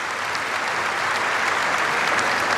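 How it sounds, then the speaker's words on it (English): Steady, dense applause fills a tennis stadium at the Wimbledon men's final, a continuous crowd clapping heard at a distance with no break. "Carlos Alcaraz and Jannik Sinner stand to applaud"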